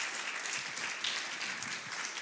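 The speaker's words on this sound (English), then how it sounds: "How about we give a round of applause?" Steady applause from a church congregation, a continuous wash of clapping at even volume throughout, with no talking over it.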